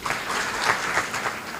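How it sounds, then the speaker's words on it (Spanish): Brief burst of audience applause at a book presentation, a dense, steady patter of many hands clapping at moderate volume. "la señora Janet Miller, con un fuerte aplauso."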